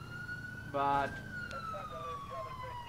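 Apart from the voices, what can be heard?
sirens in the video game LCPDFR (GTA IV)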